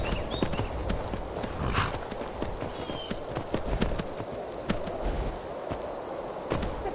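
Horse hooves clip-clopping at a steady walking rhythm in the video game Skyrim, over a constant background hum, with a faint whinny partway through.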